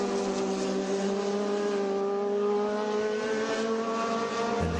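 Race cars on a circuit, including air-cooled Porsches, roaring past as a loud sustained engine drone with a steady high pitch and a slight shift as they go by.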